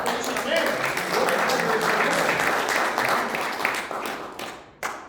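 Church congregation applauding during a sermon, a dense wash of clapping with voices mixed in, fading out near the end with a last few claps.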